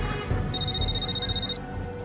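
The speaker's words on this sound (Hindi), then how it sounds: "शायद होटल वाले का फोन है।" A phone rings once in a steady electronic tone, clear and close, over a low background hum.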